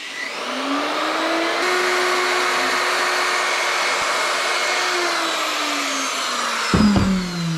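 A router cuts V-grooves into a sheet panel during a van conversion, a loud steady high whine that holds pitch, dips slightly under load, then winds down at the end.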